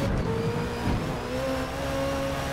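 A race car in a racing video game accelerates at full throttle out of an S-bend, its engine a steady, loud, rising drone held for a couple of seconds.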